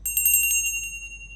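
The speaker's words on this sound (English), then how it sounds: "as soon as you get an order, you will hear bell sound" A bell-style notification chime signals a new restaurant order, ringing in a quick burst of several bright metallic strikes that ring out and fade over about a second, with no voices.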